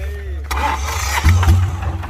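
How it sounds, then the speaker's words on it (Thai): A vehicle engine is cranked by an electric starter and catches, a low steady rumble rising into a louder surge with a couple of throttle blips, close by, with a voice speaking over it. "นี่นี่สตาร์ทไฟฟ้านะครับ"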